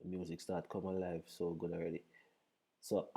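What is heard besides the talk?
No distinct noise like a dog, phone or traffic.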